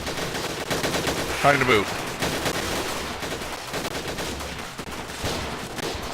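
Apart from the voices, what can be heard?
gunfire in the video game Freeman: Guerrilla Warfare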